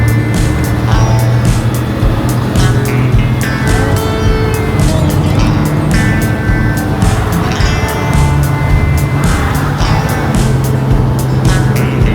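A big green truck drives along with a loud, continuous engine drone and road noise, heard from inside the cab as the engine note shifts slightly while it moves.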